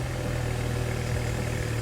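A car engine idles inside a closed garage with a steady low rumble, close and continuous for a brief moment, alone without voices.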